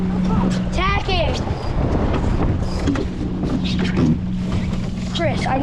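Strong wind buffets a small sailboat tacking on Narragansett Bay, a steady roar of gusts and hull noise under several young voices calling out.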